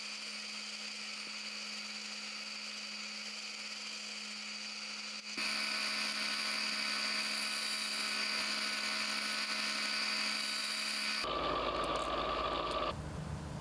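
Power drill boring and countersinking screw holes in a piece of scrap wood held in a milled pocket, a steady whine that steps louder midway and shifts pitch near the end, alone with no talk.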